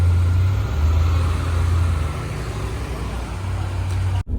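A BMW E46 with its M43 four-cylinder engine idles steadily, a constant low rumble with broadband hiss, close by and unbroken until a brief cut near the end.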